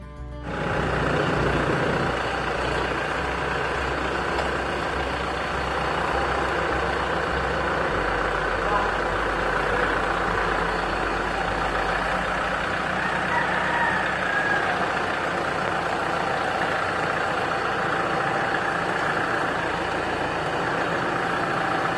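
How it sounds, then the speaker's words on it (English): A tractor engine idles steadily for the whole stretch, a continuous low rumble with a constant drone, fairly close and loud, with faint background activity and no clear change in pitch. "Here they are taking the tractor out of our"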